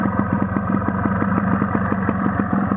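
An RC100 motorcycle engine idles nearby with a steady, rapid, evenly pulsing putter that stays at the same loudness throughout, with no voices over it.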